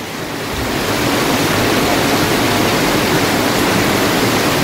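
Heavy rain pours down steadily at a house in Taiwan where a fire once happened, a loud, dense, continuous roar of water with no pauses or voices.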